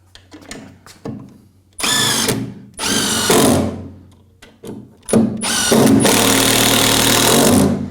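A hammer drill runs in loud, close bursts, two short ones and then a long sustained run, with quieter knocks and handling noise in between.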